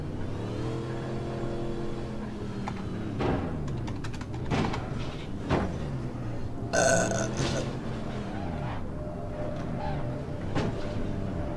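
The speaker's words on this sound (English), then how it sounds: "I got the burps." A person burps repeatedly over a droning, revving engine, the low belches rising and falling through the whole stretch while the motor hum continues underneath.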